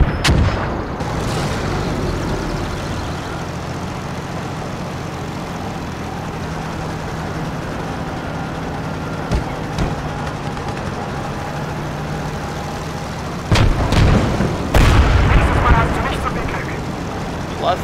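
Enemy artillery and gunfire boom in Call to Arms: Gates of Hell, heavy blasts and sharp cracks over a constant rumble of battle, with louder bursts near the end and someone speaking over it.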